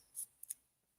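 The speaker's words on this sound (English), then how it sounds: "We've got scissors." Scissors handled at a quilting retreat show-and-tell, a few quick faint metallic snips and clicks spread over a second, close by in a quiet room.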